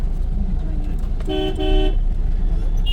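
Road traffic in Kotkapura with school buses and tempos passing: a car horn honks twice in quick succession over a steady rumble of engines and street noise.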